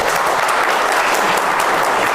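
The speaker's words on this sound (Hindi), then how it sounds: "जोरदार तालियां।" An audience applauds loudly to welcome a company chairman at a company meeting, producing a dense, close burst of clapping that stays steady for a couple of seconds.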